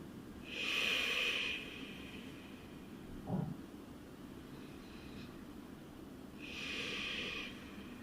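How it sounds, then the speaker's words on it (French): Slow, deep breaths during a vinyasa yoga session: two long airy exhalations, each lasting about a second, separated by several quiet seconds, with one small sniff between them. The breathing is close, steady and soft, and no voices are heard. "On vient installer une respiration vraiment profonde, un peu plus lente."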